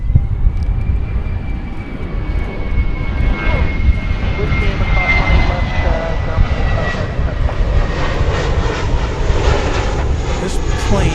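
Boeing 747 jet airliner at DFW Airport going around, giving a loud, continuous engine roar with a steady rising whine that holds for the whole stretch, close and dominant over faint background voices.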